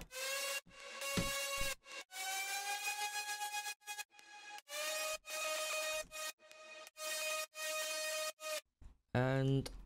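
Three stacked synth lead layers in a future trap beat play together as one bright, dense tone, a chopped melodic line of sustained notes with short gaps, ending in a brief rising sweep, loud with no talking.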